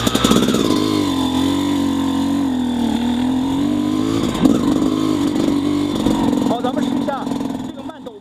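An XTNG GEN3+ 36 motorcycle pulls hard under acceleration on a test ride, a loud, steady, whining engine drone with shifting pitch that holds close and continuous before tailing off at the end.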